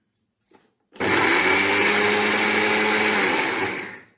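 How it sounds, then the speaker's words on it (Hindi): An electric mixer grinder grinds ajwain seeds into powder, starting abruptly after a few small clicks and then whirring loudly and steadily for about three seconds before winding down. "अब हम इसको पीसते हैं।"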